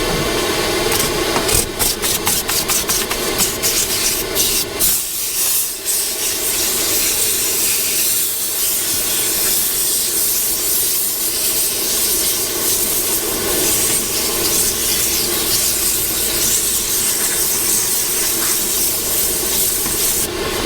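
A mobile valeting steam cleaner blasting into car interior crevices, a loud continuous hiss with rushing, rubbing texture and a few quick sputters at the start, steady and close throughout.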